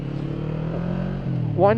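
Kawasaki Vulcan S motorcycle engine running steadily while riding, a low continuous drone that swells into a sharper revving rise near the end, with faint talk mixed in.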